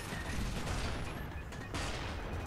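Gunfire from Call of Duty: Black Ops on PC, with dense loud bursts of shots and impacts filling the short stretch, dipping briefly in the middle before resuming.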